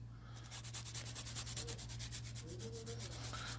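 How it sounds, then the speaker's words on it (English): A nail file rubbing across the free edge of a fingernail to bevel it, a quick, close, rhythmic scratching of repeated even strokes. "I like to bevel the free edge at a 0-degree angle"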